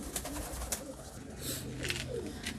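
Pigeons, low flyer and high flyer breeds, coo softly at a distance, with a few short calls scattered over a quiet background.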